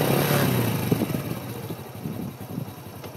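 Motorcycle engine, already warm after about half an hour of riding, starting and settling into a steady idle, a loud close rumble that runs continuously and alone.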